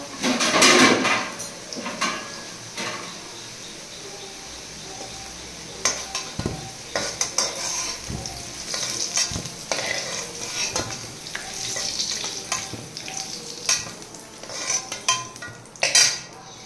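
Potatoes fry in a pan, browning, with a steady sizzle under repeated clinks and scrapes of a utensil stirring against metal, plus a few louder knocks of cookware; no one speaks.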